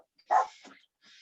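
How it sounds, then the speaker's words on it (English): A dog in the background gives a single short bark followed by a faint whimper, brief and somewhat distant in an otherwise quiet indoor room. "Sorry about my dog in the background."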